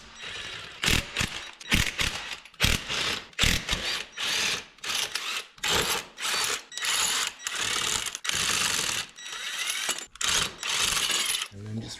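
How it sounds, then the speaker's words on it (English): Ratcheting socket wrench, 3/4 inch socket, spinning off the rear wheel lug nuts on a 1995 Honda Goldwing trike, heard as repeated close, loud bursts of metallic clicking separated by short pauses. "Step is to remove the lug nuts. We're going to use a 3/4 inch socket for that."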